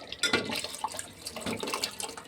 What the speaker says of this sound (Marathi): थंड पाणी नाही घ्यायचं, गरम पाणीच घ्यायचं.